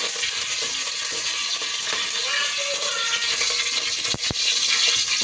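Peanut oil heats in a pan on a stove for mutton masala sambar, giving a steady broadband hiss with faint crackles and a couple of brief sharp ticks near the end.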